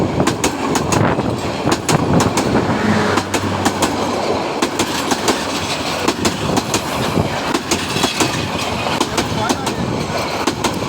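A train speeds past close by on a railway line at Gaibandha, its wheels beating a loud, rapid clickety-clack over the rail joints in a steady repeating rhythm for the whole pass.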